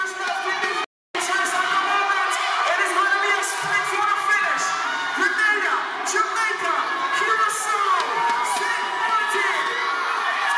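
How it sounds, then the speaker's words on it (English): A large home crowd cheers and shouts throughout at a Carifta Games athletics meet in Grenada, a dense, continuous roar of voices and whoops with a brief gap near the start. "The home crowd was definitely out in their numbers."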